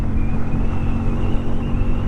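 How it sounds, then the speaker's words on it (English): A 2023 Bajaj Pulsar N250 motorcycle accelerating hard in fifth gear, its loud, rumbling engine droning steadily with a low throaty exhaust note, heard close up with some wind buffeting. "The exhaust note, the intake sound is very much like a Pulsar."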